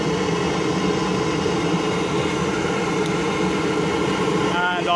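A Hoval UltraGas 450kW gas boiler running at high fire makes a steady, loud, continuous mechanical drone with a tonal hum, holding unchanged throughout.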